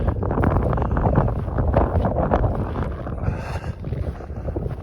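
Steady outdoor wind buffeting the microphone on open ground near Ekibastuz, Kazakhstan, a constant low rumbling roar that persists throughout with gusty fluctuations.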